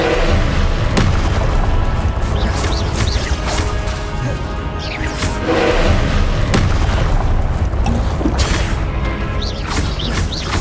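Expelliarmus spells cast in the video game Hogwarts Legacy amid loud battle, heavy booms and crashing impacts repeating over a dense, steady roar of combat with no speech.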